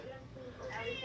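A pet cat gives a short, quiet meow that rises near the end, heard close in a soft indoor setting. A voice murmurs faintly around it.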